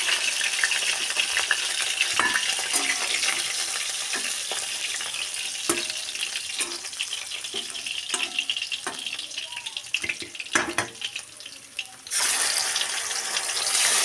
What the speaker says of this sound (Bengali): বাকি যে মাছগুলো আছে এই একইভাবে ভেজে নেবো